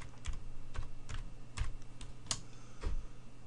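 Keys on a computer keyboard are tapped in a quick irregular run as a command is typed, each keystroke a crisp, close click over a low steady hum.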